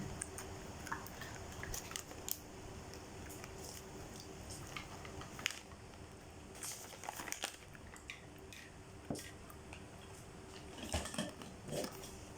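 Crispy baked shiitake mushrooms being eaten, with scattered sharp crunches and light clinks of utensils and dishes over a soft, steady background.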